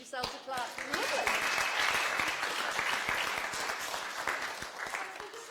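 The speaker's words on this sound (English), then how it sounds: "Give yourselves a clap" Room of attendees at an annual patient meeting clapping for themselves after singing, a steady moderate patter with voices briefly heard at the start.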